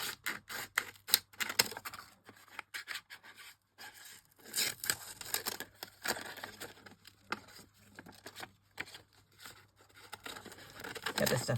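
Crisp paper snips and rustling as excess paper is trimmed away from a stamping project. The cuts come in irregular close bursts with soft crinkling between them and a voice murmuring at times.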